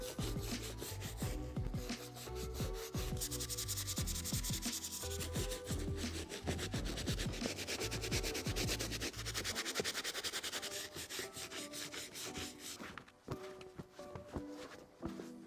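A medium bristle brush scrubs suede Jordan 5 sneakers in steady, rapid back-and-forth strokes, close and fairly loud, with no talking.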